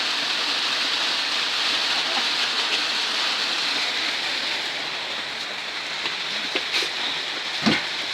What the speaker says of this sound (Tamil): ஒடியாந்துரு, மழை வருது.